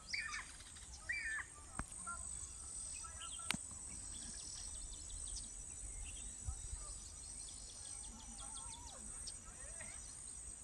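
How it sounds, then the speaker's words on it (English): Outdoor scene with a crested hawk-eagle hunting and tearing at a small bird it caught, with scattered high bird calls and chirps over a steady insect drone, plus a couple of sharp brief clicks. "The sounds of the crested eagle hawk hunting."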